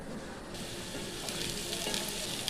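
Onions frying in hot oil with bay leaf, cinnamon, cloves, cardamom and cumin in a karai, a steady close sizzle that swells louder after the first half second and keeps crackling without any talk.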